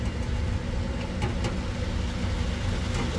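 An oil-fired furnace runs in a pole barn attic, giving a steady, loud low rumble and broadband whoosh of burner and fan without a break.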